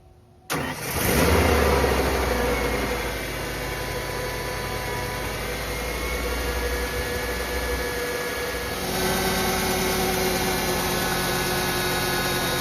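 A black 1995 Ford F150 pickup engine cranks and fires, then settles into a steady, rumbling idle that continues close and loud with a slight rise in pitch partway through.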